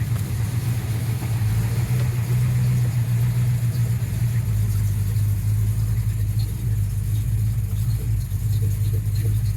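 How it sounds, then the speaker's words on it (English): A Ford Mustang's carbureted engine idles with a steady, close rumble after a fuel pump replacement, holding an even low drone throughout with only slight shifts in pitch. "There was still some gas in the carb, so hopefully it just picks up and starts running."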